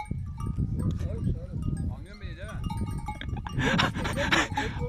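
Sheep bleat amid a busy farmyard, with people talking nearby and a bell-like clatter of livestock in the background.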